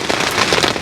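Heavy rain drums densely on the fly sheet of an MSR Elixir 1 tent during a stormy wild camp, a loud, close, continuous patter with no voices.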